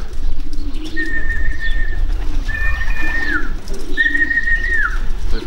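Racing pigeons arrive back at their loft after a 340 km race from Torgau, with soft bird calls and coos rising over a constant outdoor rumble, heard at a moderate distance.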